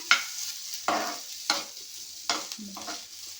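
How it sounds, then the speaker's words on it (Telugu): Ginger garlic paste frying in a pan while being stirred, a soft sizzle broken by five or six sharp scraping strokes of a spatula, close and clear with no voices. "కొద్దిగా పచ్చివాసన పోయే వరకు వేయించుకుందాం."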